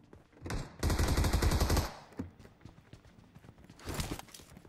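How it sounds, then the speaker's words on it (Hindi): Bursts of automatic gunfire in PUBG Mobile, a dense rapid volley in the middle followed by scattered single shots and a shorter burst near the end, fairly close and loud with no talk over it. "अभी आप लोग देखो उधर से एक बॉट फायर कर रहा है"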